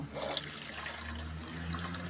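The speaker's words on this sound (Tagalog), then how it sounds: "Lagyan na po natin ng tubig ito." Water poured into a cooking pot holding bananas for boiling, a soft steady splashing and trickling heard close by in a quiet rural kitchen, with no voices.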